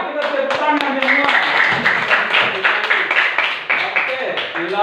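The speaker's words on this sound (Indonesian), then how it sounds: "kita tepuk tangan semua" Schoolchildren in an Indonesian classroom clapping their hands together after reciting a pledge, a patterned clapping rhythm mixed with children's voices and chanting.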